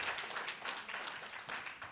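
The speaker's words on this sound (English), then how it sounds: "All right, you can clap for that." A conference audience at a closing session breaks into applause, a soft, distant wash of many hands clapping steadily, faint and without talk.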